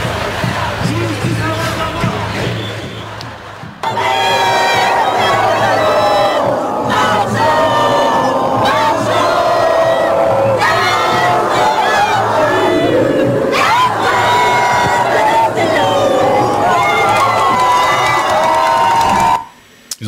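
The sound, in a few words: crowd singing La Marseillaise at Place de la République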